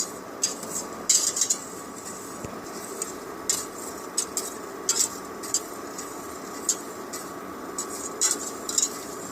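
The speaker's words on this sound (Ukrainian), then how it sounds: "На маленькому вогні, постійно помішуючи." A utensil scraping and tapping against a pot while custard cream is stirred over low heat, with irregular metallic clinks and soft scrapes recurring every second or so over a quiet background hum.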